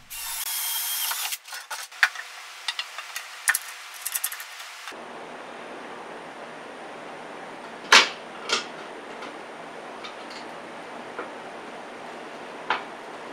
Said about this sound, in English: I'm drilling the pass-through holes for the bolts that will screw into the T-nuts mounted in the floating spacers